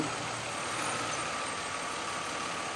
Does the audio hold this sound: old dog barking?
no